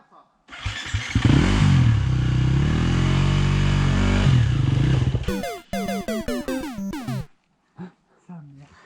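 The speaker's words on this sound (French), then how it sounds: "Tu tiens la moto, tu tiens l'accélérateur, t'accélères d'un coup" Enduro motorcycle engine revved hard with the throttle snapped open, a loud sustained roar building and holding for several seconds, then a rapid series of sharp blips and clattering bursts before it drops away.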